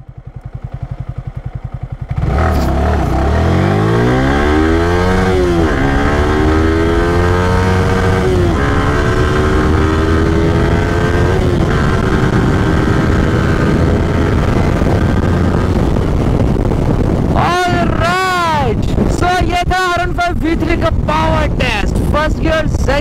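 A Yamaha R15 V3 motorcycle with a BS4 engine accelerates hard through its gears in a 0-100 speed test. The engine note is loud and close and climbs steadily under heavy wind rush, with quick rising whines at each rapid upshift near the end.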